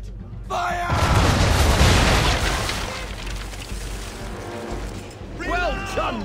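A ship's cannon broadside from Assassin's Creed 3 erupts in a heavy, sustained rumbling boom after a brief voice, then fades as another voice speaks near the end.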